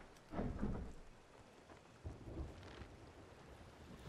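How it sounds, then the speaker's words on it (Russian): Thunderstorm in the video game Sea of Thieves: heavy rain hisses steadily throughout while low rumbling thunder swells twice, loud and close, with no talk over it. "Валим из этой бури."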